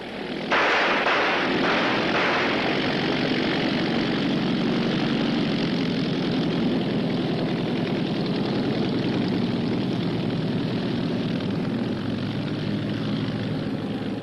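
A Nazi propeller plane flies overhead, its engine roar rising sharply after a moment of quiet and holding as a loud, continuous drone for over ten seconds with no voices.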